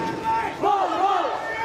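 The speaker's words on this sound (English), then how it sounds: "unarmed protesters lined the streets, chanting slogans" Unarmed protesters chanting slogans in a street in Myanmar, a crowd's voices rising and falling in a rhythmic chant, moderately loud and somewhat distant.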